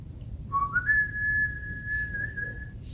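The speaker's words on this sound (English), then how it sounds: "Do the instructions say to whistle?" A person whistles a short tune near a wood lathe while gluing a turned ring: one clear, fairly loud note slides upward and holds steady for about two seconds over a low background rumble.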